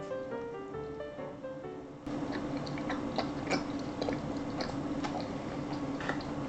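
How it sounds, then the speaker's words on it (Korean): Crunchy chewing of a diet food bar studded with large coconut pieces, heard close up as a string of sharp, irregular bites over a steady background hum. "지금 계속 씹히는 소리 들으셨어요?"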